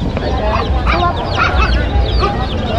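Many chicks, some dyed in bright colours, peep at a fiesta in Obando, Bulacan, a busy overlapping stream of high chirps close by over crowd noise.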